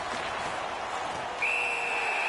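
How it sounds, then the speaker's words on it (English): A referee's whistle blows in the NHL 19 hockey video game, a single steady high-pitched tone that starts partway through and holds to the end over continuous arena crowd noise. "Whistle is blown, penalty called"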